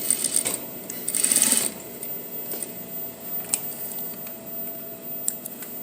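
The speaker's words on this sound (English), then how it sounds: "sew right on top of that seam right there" A sewing machine stitches a skirt to a bodice along the waist seam, running in quick bursts close by, with rapid needle rattling and faint mechanical ticks between runs.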